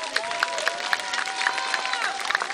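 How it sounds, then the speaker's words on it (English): Applause from the audience at the Miss Tahiti 2017 gala, a steady dense clapping that fills the whole stretch with a crowd murmur beneath. "Je vous demanderai de les applaudir une nouvelle fois."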